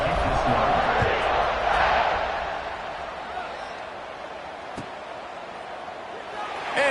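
Stadium crowd roaring in the College Football 26 video game as a kickoff is set up, a dense loud cheer that swells and then settles into a lower sustained murmur, with a commentator's voice over it.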